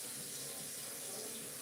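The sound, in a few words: juicer parts being washed under running tap water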